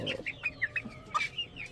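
Hens cluck in quick, uneven bursts close by, a string of short throaty notes with a couple of sharper squawks, over faint background noise.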